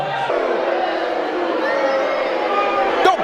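A large arena crowd at a Medieval Times dinner tournament cheers loudly for the Yellow Knights, a sustained roar of shouting and whooping voices throughout, swelling toward the end.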